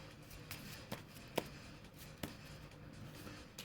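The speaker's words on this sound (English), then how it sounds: "I want to make sure it's a good shuffle" Soft riffling and light taps of playing cards being shuffled, quiet and close, with a few sharper flicks.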